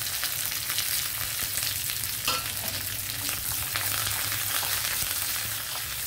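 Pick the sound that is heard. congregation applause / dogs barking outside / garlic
garlic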